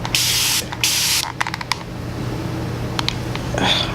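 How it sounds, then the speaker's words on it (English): A water spray bottle mists a burgundy red straight-hair wig in quick bursts: two longer hissing sprays, then a cluster of short rapid spritzes and a few more near the end, close and fairly loud. "I love it because of how it sprays. It sprays so mist-like."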